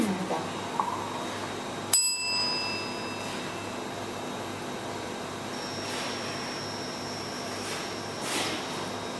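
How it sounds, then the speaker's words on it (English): A single bell is struck once, ringing with a clear bright tone that gradually fades away over several seconds against quiet room noise. "So just close your eyes, keep them open. I'll ring the bell."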